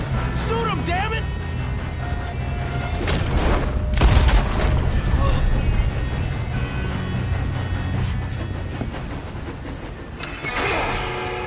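Gunfire and booming shots in Red Dead Redemption 2 during a train robbery, with several loud, close blasts and a heavy boom in the middle, mixed with game noise and voices.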